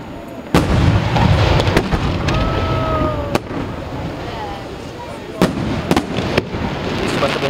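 Fireworks display bursts at a Rodi Garganico pyrotechnic show: several sharp booms, some sounding close and loud, break over a steady crowd murmur, with whistling rising tones in between.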